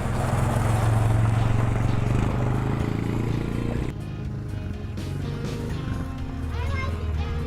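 A Honda TRX 90 ATV being ridden, its small engine droning steadily and dipping in level partway through, with people talking over it.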